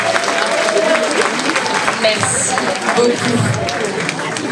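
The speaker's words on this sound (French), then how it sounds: "On les applaudit une dernière fois." Audience applause for Miss Yonne 2024 pageant contestants, a steady wash of clapping from a large crowd filling the clip while a presenter speaks over it.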